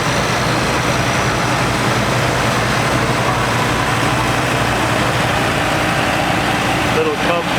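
An International Harvester 766 tractor idles at an outdoor Red Power Round Up show with a loud, steady diesel rumble that continues throughout, while people talk nearby.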